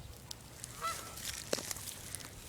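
Geese honk in brief, scattered calls at a moderate distance outdoors, a few sharp honks standing out over low background rumble, with no talking.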